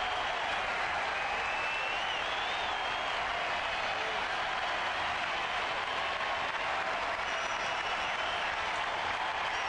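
A ballpark crowd at a San Francisco Giants home game against Colorado in 2009 keeps up a steady, loud roar of cheering while Lincecum waits on the mound, a dense wash of noise that never lets up.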